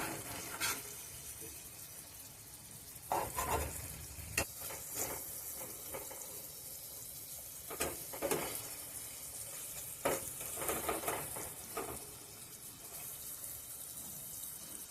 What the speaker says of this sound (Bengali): খুন্তি দিয়ে একটু নেড়ে দিচ্ছি